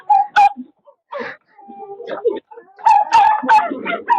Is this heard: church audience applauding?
no